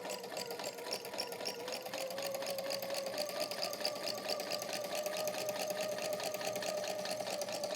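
A sewing machine stitches basic straight seams, its needle producing a rapid, even mechanical chatter with a steady motor whine, continuous and close at moderate volume, with no talking.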